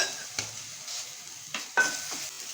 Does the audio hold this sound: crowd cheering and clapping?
no